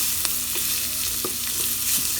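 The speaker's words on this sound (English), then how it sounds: "I'm going to go ahead and get those stirred in there because we want to get the onions flavored" Chopped onions being stirred into home-fried potatoes in a pan, with a steady sizzle and light scraping clicks from the stirring, close and alone.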